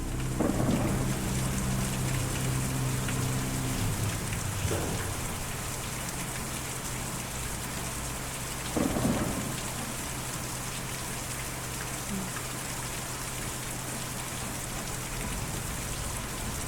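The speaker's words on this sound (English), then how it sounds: "that thunder made me jump" Steady rain pours in a thunderstorm from the video game Kentucky Route Zero, and several deep rumbles of thunder roll through it. A loud crack lands near the end. No one talks.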